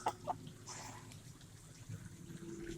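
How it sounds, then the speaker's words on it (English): Phoenix chickens give a few soft, short clucks near the start, faint against a quiet outdoor background with light watery noise and no voices. "They're phoenix chickens."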